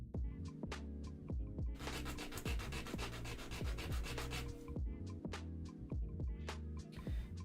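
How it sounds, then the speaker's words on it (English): Rhythmic sanding strokes scrape back and forth on a small wooden piece of a CuteBee Magic House miniature kit, close and steady, with a faster burst of rubbing in the middle. "It's amazing what a little bit of sanding will do."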